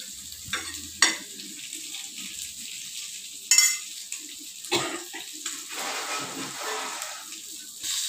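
Pomfret fish fries in a pan with a soft, steady sizzle, broken by a few sharp clicks and clatters of a utensil against the pan, heard up close and alone.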